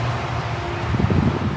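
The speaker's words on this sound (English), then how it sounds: "The wind is just a blowing." Wind blows steadily outdoors on a rainy, stormy day, a continuous low rushing buffet against the microphone with faint rustling.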